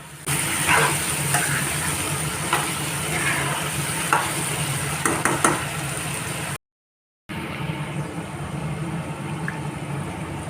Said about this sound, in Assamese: প্ৰায় 15-20 মিনিটমান ভাজিম